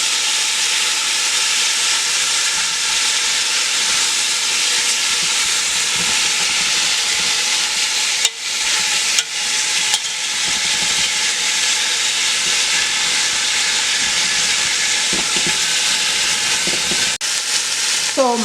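Oxtail pieces browning in a hot pan for Jamaican oxtails with butter beans, a steady loud sizzle and hiss of frying meat throughout, broken by a few brief clatters.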